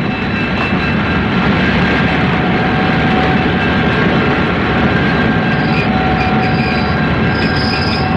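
A train passes close by, a loud, dense roar of rolling wheels with faint squealing and rattling held steady throughout, no voices over it.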